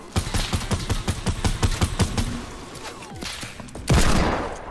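Gunfire in the Fortnite video game, a rapid burst of loud repeated shots followed by scattered single shots and a heavy blast near the end, with no talking.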